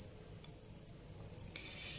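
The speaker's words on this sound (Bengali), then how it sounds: "সন্ধ্যা হলে আমাদের এখানে প্রচন্ড ঝিঝি পোকার ডাক।" A dense chorus of crickets calls at dusk around a home, a continuous shrill trill that stays steady and fairly loud throughout with no voices.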